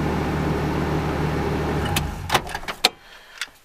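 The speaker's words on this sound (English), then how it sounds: "You hear that clicking sound at the end? It's not supposed to sound like that." Car clutch pedal pressed down, a mechanical whir followed by a few sharp clicks near the end, close and fairly loud, with no voices.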